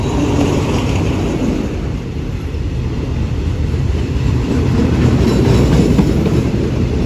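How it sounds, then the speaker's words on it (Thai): Long passenger train 778 pulls into a station on a rainy afternoon, hauled by a diesel locomotive, with a loud steady roar and continuous rumble of wheels and cars close by and no voices. "ยาวสุดๆ ไปเลยนะขบวน 778 ในวันนี้"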